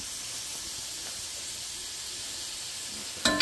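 Sausage sizzles in a pan, a steady bright hiss holding evenly throughout with a sharper clatter near the end and no talk.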